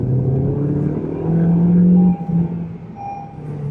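A Honda Civic's engine drones steadily as the car drives in manual paddle-shift mode, a low sustained hum that swells and rises in pitch mid-way before easing off, heard from inside the cabin.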